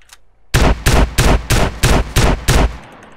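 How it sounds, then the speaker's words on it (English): Seven loud, evenly spaced gunshots ring out in steady rhythm during a police-versus-robbers shootout in the MTA:SA video game, aimed at a car's wheels, with no talk over them. "Shooting this guy's wheels."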